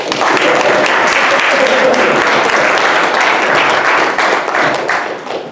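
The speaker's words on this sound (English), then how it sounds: "Let's give her a round of applause." Audience applause at a Unitarian Universalist church service fills the room after a song, steady dense clapping from many hands held at full strength throughout before easing slightly at the end.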